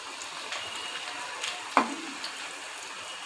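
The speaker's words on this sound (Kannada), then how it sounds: "ಚಿಕ್ಕ ಸೈಜು ಇದ್ದಾವೆ ಅದನ್ನು ಫ್ರೈ ಮಾಡ್ಕೊಂಡು ಬರ್ತೀನಿ" Small Diwali sweets deep frying in hot oil, a soft steady sizzle with faint stirring and one brief clink, heard alone without talk.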